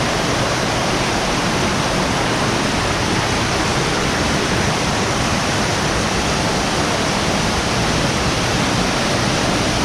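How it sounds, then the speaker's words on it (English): Kanarra Falls, a slot-canyon waterfall in Kanarraville, Utah, roars as a loud, steady, broadband rush of falling water that stays unbroken and close throughout, with no voices. "I think we found the 3rd waterfall,"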